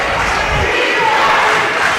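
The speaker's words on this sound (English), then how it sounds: "The Mount Union crowd chanting defense here" Home fans at a Mount Union men's basketball game against Marietta, a loud, steady roar of massed crowd voices chanting in unison, filling the arena.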